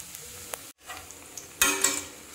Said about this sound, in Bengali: এই যে দেখেন এইভাবে আমি এখন তেলটা উপরে দিয়ে দিচ্ছি। ব্রেডটা আমি উল্টিয়ে দেব।